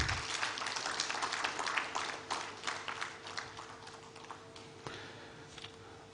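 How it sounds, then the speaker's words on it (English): Applause from the audience at a housing show conference, a scattered patter of hands that is quiet and somewhat distant, fading over several seconds with faint room murmur beneath. "I think he deserves a better round of applause."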